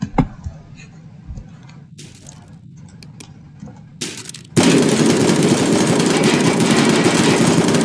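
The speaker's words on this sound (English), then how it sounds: "Yeah, let's use a 47 AK. I'm sorry, I mean an assault rifle." Assault rifle fire aimed at an android in the People Playground game: scattered sharp cracks at first, then a loud, sustained dense roar of continuous shooting filling the second half.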